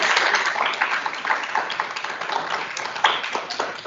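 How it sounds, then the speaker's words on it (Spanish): Audience clapping at an online or hybrid academic session, a steady patter of hand claps with a few sharper louder claps, moderately close and lasting throughout with no one talking over it. "un fuerte aplauso"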